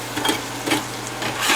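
A utensil stirs onions, bell peppers and cremini mushrooms in a pan for chicken fajitas, making soft scraping strokes every half second or so over a low sizzle.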